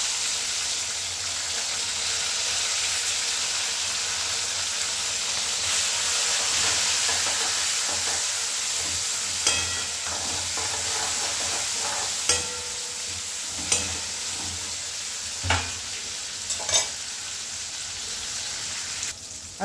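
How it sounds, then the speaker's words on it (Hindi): Tomatoes, cloves and black pepper frying in a pan for Gujarati dal, a steady sizzle with spoon stirring and several sharp knocks against the pan near the end. "दो तीन लौंग और ब्लैक पेपर, साथ में डालते दो टमाटर"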